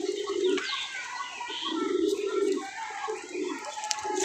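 Desi pigeons coo in repeated low, throaty bursts, close by, with a mated pair and a hen drinking water nearby, over a faint background hiss.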